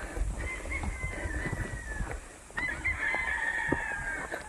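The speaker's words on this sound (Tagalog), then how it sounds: "madaming manok dyan." Chickens clucking and a rooster crowing twice in a long drawn call, moderately distant, outdoors beside a mountain trail on Mt. Manabu, with steady ambient background.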